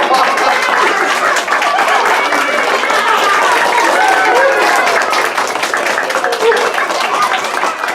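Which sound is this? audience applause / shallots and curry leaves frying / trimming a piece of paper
audience applause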